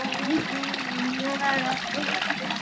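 Water runs steadily in a fountain in Granada, Spain, a continuous close trickle and splash with a voice speaking faintly over it.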